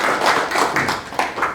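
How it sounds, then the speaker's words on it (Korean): Hands clap in a somewhat uneven rhythm as a seated audience at a meeting welcomes an introduced guest, a modest group applauding close by with distinct individual claps rather than a full roar. "함께 박수로 맞도록 그렇게 하겠습니다"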